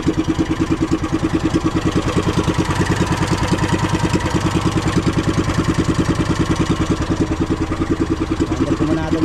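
A boat's engine at sea running at reduced throttle, a steady, loud, rhythmic chugging with even pulses throughout and no speech over it.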